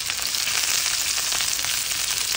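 Sausages and onion fry in a pan with a loud, dense, steady sizzle that crackles evenly throughout.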